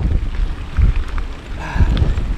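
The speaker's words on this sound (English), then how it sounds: "Whoa, the wind." Gusty wind buffets the microphone on a long mountain bike ride, coming as deep, rumbling bursts that rise and fall, with no talking.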